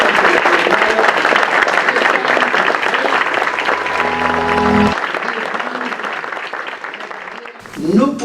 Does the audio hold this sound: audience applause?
yes